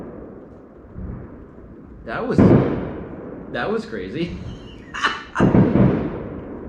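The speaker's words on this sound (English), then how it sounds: "That's fireworks." Fireworks bursting outdoors on a Halloween night, several loud booming blasts with rumbling tails at irregular intervals, heard while people talk and react nearby.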